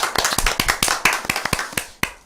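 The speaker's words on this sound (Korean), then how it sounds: "네, 박수 한번 드릴까요?" A small studio audience applauds during a Korean real-estate broadcast, giving a brief burst of scattered, fairly close hand claps that lasts about two seconds and then fades out.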